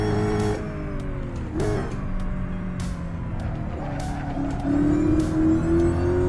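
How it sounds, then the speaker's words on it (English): A Dodge Hellcat drives past on a street, its engine revving and rising in pitch through the gears. Louder bursts come over steady traffic rumble, and the car stays fairly close throughout. "No, it's a Hellcat."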